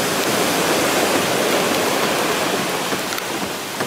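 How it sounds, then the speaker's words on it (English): Rough ocean waves in Barbados during Tropical Storm Kirk roar as a loud, continuous, dense wash of surf with no break, heard alone. "see how rough the ocean is?"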